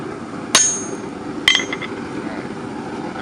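A hammer strikes hot metal at a forge. Two sharp ringing blows land about a second apart, close and clear, the second followed by a few lighter rebounds.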